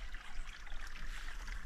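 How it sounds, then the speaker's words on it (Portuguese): Water gushes steadily from two pipes into a lake, a continuous broadband rushing splash heard fairly close and alone, with no break across the stretch. "Ó, tem dois canos jorrando água."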